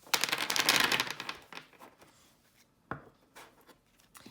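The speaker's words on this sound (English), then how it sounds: "So I'm going to shuffle the deck." Deck of glossy laminated oracle cards being shuffled: a quick fluttering riffle of cards up close, followed by a few soft taps and slides as the deck settles, with no talking.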